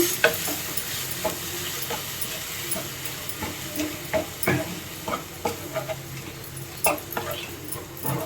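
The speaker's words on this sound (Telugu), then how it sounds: "చూడండి ఈ విధంగా కొంచెం ఫ్రై అవ్వాలి" Spices frying in a pan for coriander rasam, a soft continuous sizzle with occasional stirring clicks and scrapes, close but fairly quiet, no voices over it.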